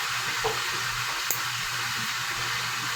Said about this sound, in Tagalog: At habang nagpiprito tayo